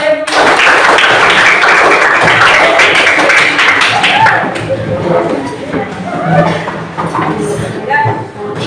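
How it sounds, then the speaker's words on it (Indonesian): A class of students claps together in a loud burst of applause lasting a few seconds, which then fades as a teacher resumes talking in the classroom. "Tepuk tangan kalian."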